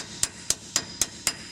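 A hammer drives a socket onto a rusted nut under a 2000 Chevrolet 1500 during rear brake backing plate work, landing five sharp metallic blows at an even rhythm, close and alone.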